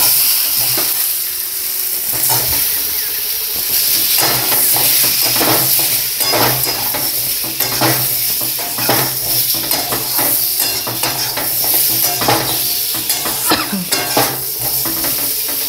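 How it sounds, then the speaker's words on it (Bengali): Potatoes and spices with Kashmiri chilli powder fry in a pan for Bengali chop, a loud steady sizzle under frequent clattering spoon strokes and scraping against the metal, continuous throughout. "একটু হালকা করে এগুলো ফ্রাই করে নিচ্ছি"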